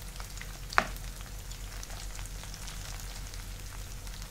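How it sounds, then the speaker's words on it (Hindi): Okra fries quietly in a pan of oil, a soft, even sizzle with one brief sharp pop early on, faint and close with no talking. "हमें भिंडी को थोड़ा सेपरेट फ्राई करना है,"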